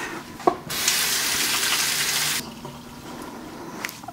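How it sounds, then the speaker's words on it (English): Tap water runs from a kitchen faucet while hands are washed, a close, loud steady gush that starts abruptly, lasts under two seconds and cuts off, with a few faint handling clicks around it and no talking. "I'm just gonna wash my hands real quick."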